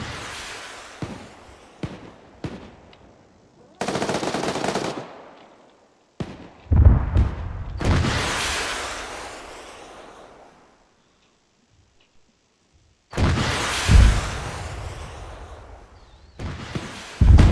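Arma 3 battle with a tank turret blown off in an explosion: a series of sharp gunfire-like cracks followed by several loud booming blasts with long decaying rumbles, separated by short silent gaps.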